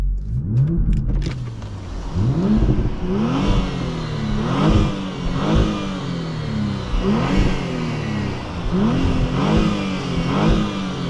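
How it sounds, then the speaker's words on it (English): A 2024 Porsche Panamera 4S engine revs repeatedly in Sport Plus mode, rising and falling in regular surges, loud and close, with no talking. "Should give you guys some revs right here. See how this thing sounds"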